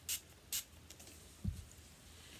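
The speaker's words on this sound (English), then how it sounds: "NYX Matte Finish" Two short, bright bursts of NYX Matte Finish setting spray in quick succession, close by, followed by a faint thud in a quiet room.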